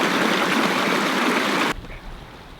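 A Sierra Nevada mountain stream rushes loudly and steadily up close as a broad, hissing wash of water, then cuts abruptly to a much quieter trickle.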